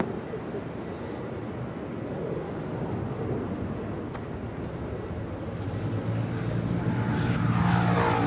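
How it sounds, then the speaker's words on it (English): A Boeing 787 Dreamliner takes off from runway 25 right at LAX, a distant jet rumble that builds steadily into a louder rising roar, with faint radio chatter and a talking voice in the background. "Dreamliner heading down for a Southside departure on 25 right"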